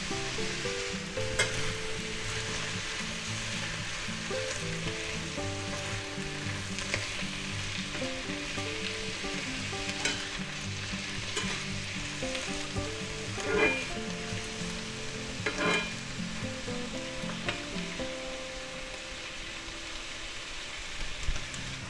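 Minced garlic sizzles in a frying pan with mushrooms for an omelet, a steady close-up frying hiss that runs throughout, broken by occasional soft clicks and utensil taps.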